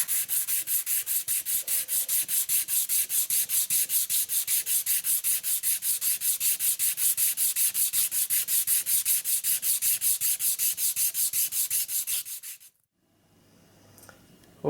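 Guitar nut on a 1976 lawsuit-era Les Paul being sanded down by hand: a fast, steady back-and-forth rasping rubbing for about twelve seconds, close and loud, then it stops and gives way to quiet handling noises.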